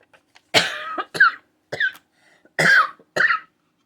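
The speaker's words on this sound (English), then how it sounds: "Why I started coughing all of a sudden," A person at a papercrafting desk coughs in a close, loud series of five short bursts with brief gaps between them, in an otherwise quiet room.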